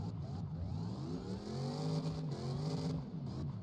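A car engine in a competition setup revs repeatedly in rising and falling surges, loud and close, its steady mechanical drone filling the whole stretch with brief dips between pulls.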